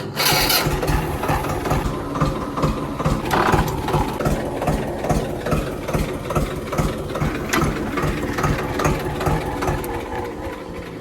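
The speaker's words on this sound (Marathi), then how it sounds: "ट्रॅक्टर काढून घेऊ म्हणजे कागद काढायला." A farm tractor engine runs loud and close, a steady rumbling chug that holds without pause and with no talking.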